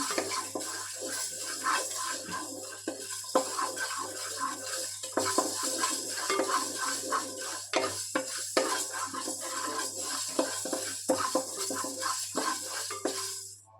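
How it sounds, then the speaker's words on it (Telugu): Fenugreek seeds and spices frying and being stirred in a pan, a steady close sizzle and hiss broken by scraping and clinking stirs throughout, with no talking. "వీటిని బాగా వేయించుకోవాలి. ఇది కాస్త కలర్ చేంజ్ అయ్యే వరకు వేయించుకోవాలి."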